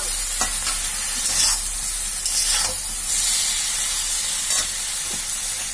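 Greens cooked with mustard paste being stirred in a pan, a loud continuous sizzle and hiss broken by regular scraping strokes of the spatula, close up.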